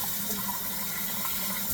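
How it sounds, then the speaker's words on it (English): Steady broadband rush of tap water running continuously into a sink as something is rinsed out under it, close and fairly quiet, with no talking. "Rinse that out."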